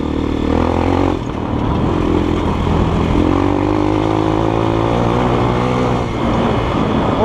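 A GEON X-Road 250 PRO motorcycle engine rumbles steadily and loudly close by, the exhaust droning with a slight pitch change partway through.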